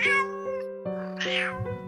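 A cat meows close by, a few drawn-out tonal cries running together over a steady background hum.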